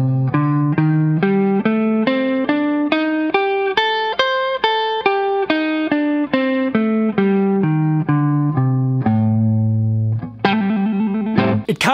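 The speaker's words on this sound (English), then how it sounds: "So the next alteration that we're gonna do is we're gonna take the fifth and flat it. So we have a flat fifth," Electric guitar through distortion and effects picks a pentatonic scale with a flattened fifth, single notes rising then descending in an even rhythm, loud and close, ending with a few strummed chords.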